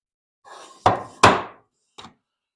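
A Stanley No. 40 scrub plane taking a few rough strokes across wood: a soft rasp, then two loud, quick shaving swipes and a faint final scrape, close by with silence between.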